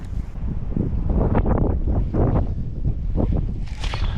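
Gusty wind buffets the microphone beside a golf course pond, a steady loud roar with low rumbling surges and a brief higher hiss near the end, no voices.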